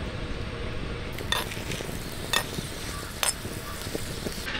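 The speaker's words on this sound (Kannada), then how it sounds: "ಸ್ವಲ್ಪ ತೆಂಗಿನ ಎಣ್ಣೆ ಹಾಕಿ ಹುರಿಯುವುದು" Chillies are roasted in coconut oil in a pan, giving a soft, steady sizzle and hiss with a few sharp utensil clinks against the pan.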